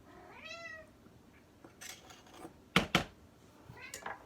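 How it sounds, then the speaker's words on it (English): A cat gives a short meow nearby, followed by faint kitchen clatter and a couple of sharp knocks. "If you hear a little meow in a second"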